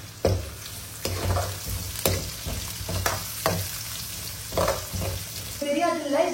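Vegetables, including carrots, sizzle steadily in a hot pan while a utensil scrapes and stirs at regular intervals.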